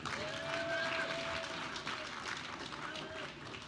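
Guests at a gala dinner in a hotel ballroom break into continuous applause, a dense even wash of clapping held for several seconds with faint tonal traces beneath.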